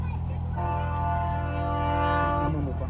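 A loud, steady train horn sounds over the low rumble of a passing train, with chatter from nearby people underneath.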